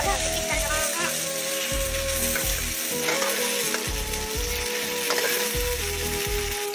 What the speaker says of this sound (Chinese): 大火煸炒。